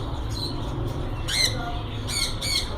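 Yellow ringneck parakeets, a breeder pair at a bird market, let out loud, close, harsh squawks, one burst near the middle and two quick ones near the end, over a steady background hum.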